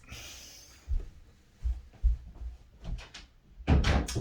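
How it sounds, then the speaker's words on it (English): Indoor door being shut, a series of soft knocks and thumps as it moves and latches, ending in a firmer closing bump, with no talking. "I'm going to close my door real quick."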